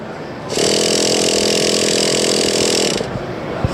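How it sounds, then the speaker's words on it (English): An electric starter motor cranks the glow engine of a Team Losi TEN-T RC truck, a loud, steady whirring buzz starting abruptly, holding for about two and a half seconds, then cutting off, followed by a faint click. "when you press this, it's going to light the glow plug. There'll be a momentary lapse, at which point the starter motor will pick in."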